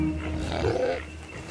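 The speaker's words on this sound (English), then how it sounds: "That's the sound of an angry pig." An angry pig lets out a loud, rough squealing roar that rises and swells in the middle before trailing off, heard up close and alone.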